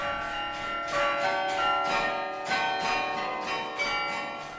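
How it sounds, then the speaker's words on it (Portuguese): A carillon of about 47 church bells rings together in a rich, overlapping peal, repeated strikes blending into a sustained metallic chime with no voices. "Tem até igreja matriz com sino e tudo. E não é um sino só, Dorothy."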